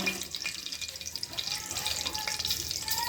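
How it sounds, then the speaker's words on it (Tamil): Mustard seeds sizzle and crackle in hot oil while tempering for narthangai (citron) pachadi, with a steady hiss and quick small pops, heard up close. "எண்ணெய் ஊற்றி எண்ணெய் காஞ்சதும் கடுகு போடணும்"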